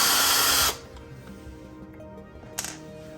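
A power screwdriver backs a screw out of a GoldenEar Triton 2 speaker amplifier plate in one loud close whir of under a second, then quiet handling and a brief clink.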